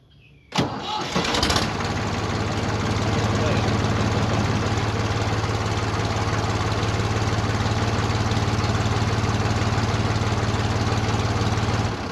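An old Ford 4500 backhoe's engine cranks briefly and catches on a cold start, then settles into a loud, steady, unbroken idle that runs on to the end.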